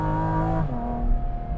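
A Porsche GT4 RS or 992 GT3 engine revs loudly with a sustained, growling roar that shifts pitch partway through, steady and close, in the Italian mountains.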